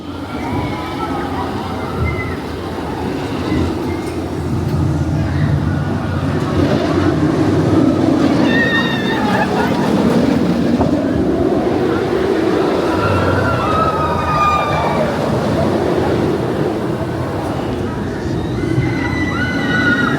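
The Nemesis Reborn roller coaster at Alton Towers roaring along its track, a loud sustained rumbling whoosh with shrieking wheel squeals and riders' screams rising and falling throughout.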